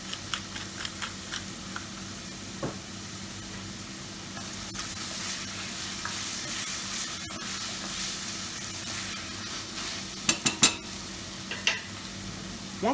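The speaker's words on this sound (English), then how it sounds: "Once your onions have browned" Onions with crushed garlic frying in a pan give a steady, close sizzle, with a few quick stirring taps and clicks near the end.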